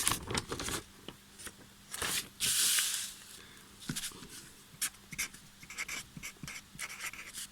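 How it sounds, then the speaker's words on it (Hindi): Pen scratching across a notebook page in close, irregular strokes and short bursts, with a few louder swipes and pauses between, quiet room, no talking. "अगले पेज पे लिख लेते हैं।"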